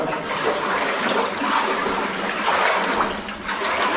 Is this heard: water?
yes